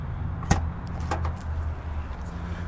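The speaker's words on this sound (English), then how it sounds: "Open up the trunk." A 2009 Chrysler 300 trunk opens with a sharp latch click, followed by a soft mechanical swing over a low steady background hum.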